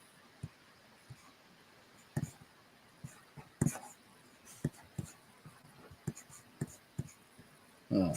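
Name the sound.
writing by hand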